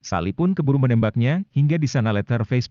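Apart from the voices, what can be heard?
None of the usual background noises is heard.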